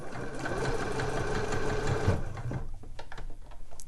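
A sewing machine runs steadily, stitching slipper boot fabric along a one-centimetre seam, then stops partway, leaving quieter handling sounds.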